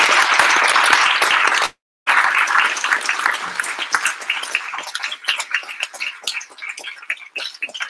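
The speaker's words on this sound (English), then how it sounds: "can we please have one more round of applause for Jason?" Audience applause for Jason at an OpenWork event, a dense, loud burst of clapping from a crowd that breaks off briefly, then resumes and thins into scattered claps.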